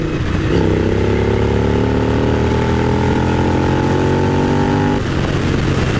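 Suzuki SV1000S V-twin motorcycle shifting up to sixth gear, a brief dip at the shift followed by a steady, rising engine drone under constant loud wind rush, ending with the revs dropping off, no voices.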